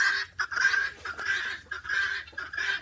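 Backyard fowl calling in repeated honking, clucking bursts, fairly close and loud, three or four squawks in a row with brief gaps and no talk.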